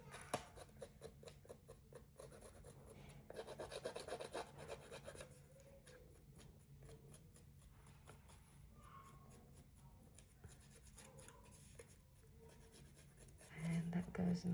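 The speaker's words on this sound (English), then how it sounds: "use my scissors and sort of scrape the edge to give it that tattered look" Dry rasping scrapes of scissors along a paper edge, repeated in short strokes, with a voice talking over parts of it.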